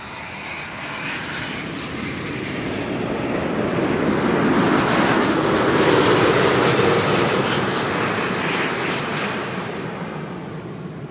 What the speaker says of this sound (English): Delta Airlines Flight 256 arrived from Boston, Massachusetts, A330neo.